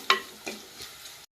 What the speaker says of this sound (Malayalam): ഇഞ്ചി വെളുത്തുള്ളിയൊക്കെ നന്നായിട്ട് മൂത്ത് വന്നു